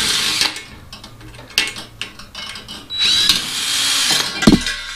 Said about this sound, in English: you can go ahead and unscrew this